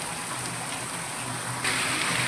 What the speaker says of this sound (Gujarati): વરસાદ ભાઈ સારો આવે જો